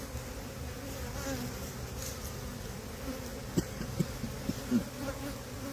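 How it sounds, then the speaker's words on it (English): Honey bees buzz inside a crowded hive with queen cells present: a dense, steady hum throughout, joined near the end by a few soft knocks and clicks. "there's too many bees in here for me to think that they already swarmed"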